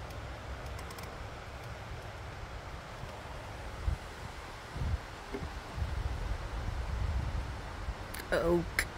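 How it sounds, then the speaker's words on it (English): Wind gusts through an oak tree, the leaves rustling in soft swells that grow louder toward the end, with some microphone buffeting and a brief voice near the close. "Oak is dancing in the wind."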